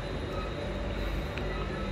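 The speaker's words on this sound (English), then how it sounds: "here's the train that will bring me to the main city" The Bangkok airport skytrain at Suvarnabhumi rumbles in as a steady, loud rail roar with a faint squeal of wheels. No voices are heard.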